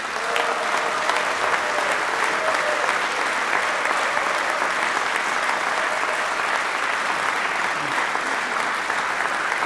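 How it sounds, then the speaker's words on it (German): Concert audience at a big band jazz performance applauds steadily, a dense sustained wash of clapping from a full hall with a few faint voices underneath, continuous throughout. "Ich möchte nochmal um einen großen Applaus bitten für den wunderbaren Jim McNeely."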